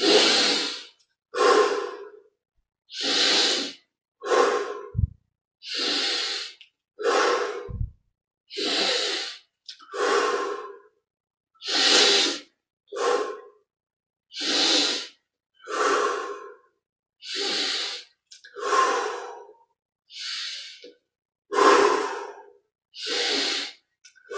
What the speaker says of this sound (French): on laisse le corps faire ce qu'il a à faire, c'est-à-dire prendre de grandes respirations